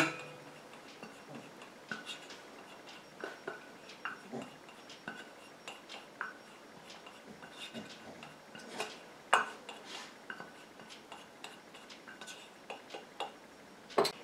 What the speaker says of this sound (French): je prends ma phase huileuse que je viens mettre dans mon récipient